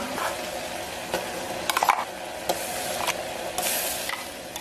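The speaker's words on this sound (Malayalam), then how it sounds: "ഇനി നമ്മൾ ഉണ്ടാക്കി വെച്ചിട്ടുള്ള അരപ്പ് ഇട്ട് കൊടുക്കാം" Ground coconut paste added to simmering pineapple pachadi for an Onam feast and stirred, a low sizzle under repeated ladle scrapes and clinks against the pot, no talk.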